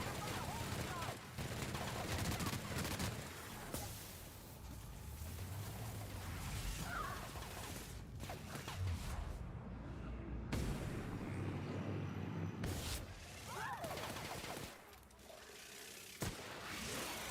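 Gunfire in The Outer Worlds video game, fairly quiet bursts and scattered shots amid game sounds and effects, with someone talking over parts of it.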